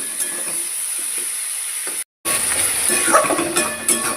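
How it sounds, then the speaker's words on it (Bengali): Squash stirred in a pan for squash ghonto, a close steady sizzle with scraping stirs, broken by a brief silent gap before the frying and stirring resume. "এখন আমি এই কোয়াশটা দিয়ে দেব। ভালো করে নেড়ে চেড়ে নেব।"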